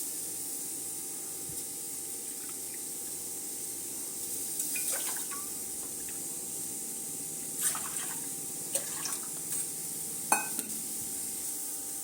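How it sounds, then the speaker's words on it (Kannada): Water boiling in a 2–3 litre pressure cooker pot for ragi ambali, a soft steady bubbling hiss with a few faint clinks and light knocks, quiet and close, no talk. "ನೋಡಿ, ನೀರು ಚೆನ್ನಾಗಿ ಕುದೀತಾ ಇದೆ."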